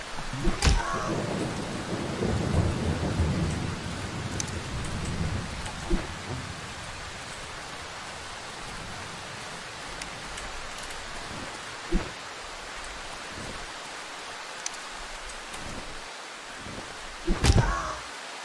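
Rain in the video game Darkwood: a steady wash of rainfall with a brief louder swell at the start, then a quieter continuous patter broken by a few sharp isolated thumps and clicks.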